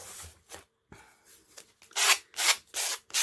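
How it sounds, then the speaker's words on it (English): Hand sanding on wood for a faux barn door, close and fairly loud, a few light strokes and then four strong rhythmic rasping passes. "I'm going to show you how I'm sanding these down"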